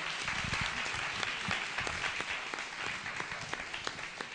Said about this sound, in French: On peut applaudir quand même.